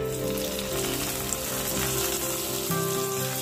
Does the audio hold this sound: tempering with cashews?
yes